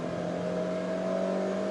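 A GAC GS3 car engine revs steadily through a downshift, a sustained close drone with a strong, even tone and no speech.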